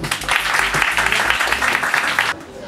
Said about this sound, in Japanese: でも大きな拍手で迎えてください。